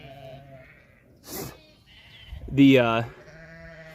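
Sheep kept in nets on a farm bleat loudly and close by, one long quavering cry standing out among softer calls, while a person briefly speaks.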